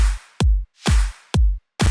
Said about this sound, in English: A lot of the times having a basic kick and clap pattern like this